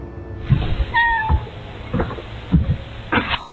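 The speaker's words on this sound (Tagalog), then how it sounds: "May pusa." A domestic cat meows several times in short, close calls spaced through a brief stretch, some with a slightly strained, yowling edge, heard alone without any talking.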